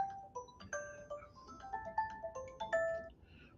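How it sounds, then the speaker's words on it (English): A melodic phone ringtone for an incoming call plays a bright sequence of tonal notes in quick rising and falling steps, fairly close and alone for several seconds in an indoor man cave setting. "I'm getting a phone call"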